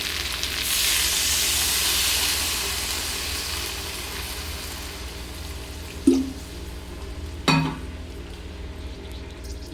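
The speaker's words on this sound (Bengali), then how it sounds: "এই পর্যায়ে আমি দিয়ে দেবো পরিমাণ অনুযায়ী জল।" Water goes into a hot pan of frying potatoes, drumsticks and poppy seeds for a dry chorchori, raising a loud, broad hiss that slowly fades to a gentle sizzle, with two brief clinks of a utensil later.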